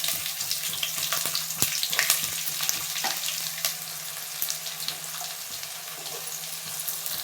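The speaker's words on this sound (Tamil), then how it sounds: "வெங்காயம் கொஞ்சம் நேரம் வதங்கட்டும்." Onions and curry leaves frying in oil for a duck curry: a steady, close hiss of sizzling with scattered crackles and small spatula taps, continuous and without voices.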